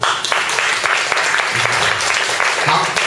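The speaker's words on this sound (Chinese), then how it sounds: "所以我们再给他掌声鼓。" An audience claps for a performer who bravely took the stage, a dense sustained round of applause filling the room, with some voices mixed in.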